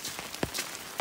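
Rain patters faintly on an umbrella along the Appalachian Trail, with scattered soft taps over a quiet hiss.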